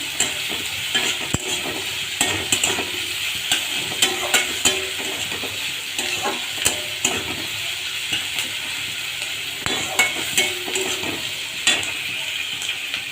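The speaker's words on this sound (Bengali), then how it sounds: "রসুন আর পেঁয়াজ একটু ভেজে নিচ্ছি" Garlic and onion frying in a pan give a steady close sizzle, broken by repeated scraping strokes of a spoon stirring, with no voices.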